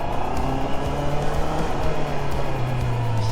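A Honda CB motorcycle engine, either a CB650R or CB300R, revs steadily on a motorcycle practice ground, its low droning tone rising and falling in a continuous, loud run with no voices over it.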